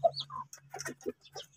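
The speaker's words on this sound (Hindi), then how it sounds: "ये हमारे पास है 3 मुर्गियाँ और 1 मुर्गा।" Mottled bantam chickens, three hens and a rooster, cluck softly up close in a quick series of short, throaty notes with a faint low hum underneath.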